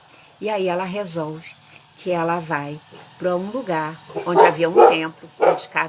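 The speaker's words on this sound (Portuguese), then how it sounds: "desculpem o barulho, são meus cachorros" Household dogs bark and yip in the background at a home while someone talks steadily over them, the barks short and partly masked by her voice.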